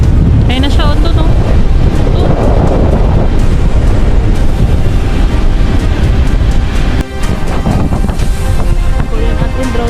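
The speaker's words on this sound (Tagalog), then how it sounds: "Grabe sobrang hangin." Strong wind at Big Sur buffets the microphone in a constant loud roar for the whole stretch, with heavy low rumble and gusty surges, while people talk faintly underneath.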